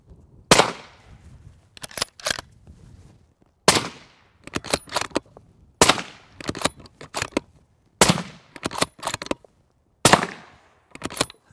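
Suppressed shots from a Bergara HMR Hunter Match Rifle in 6.5 Creedmoor fitted with a Liberty Sovereign silencer. Five sharp, loud reports come at roughly two-second intervals, each followed by a burst of clattering bolt and handling noise, with no talking.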